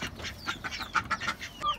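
Ducks on a rooftop farm that also keeps chickens, a rooster and pigeons give a steady run of short, busy quacks and bird calls at moderate distance, with no talking.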